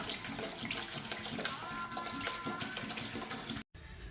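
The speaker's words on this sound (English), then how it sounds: "We've added the purified water to get it up to 5 gallons." Purified water pouring steadily into a homebrew fermenting bucket to bring an extract-kit batch up to five gallons, a close, continuous splashing rush that cuts off briefly near the end.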